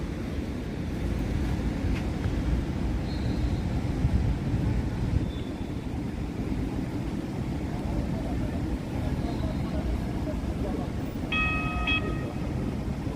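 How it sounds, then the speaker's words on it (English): A light rail train in Jersey City passes outdoors in summer heat as a steady, broad rumble under wind buffeting, with a brief high squeal of wheels near the end and faint voices. "we're waiting on the light rail that is going in the opposite direction, not that one"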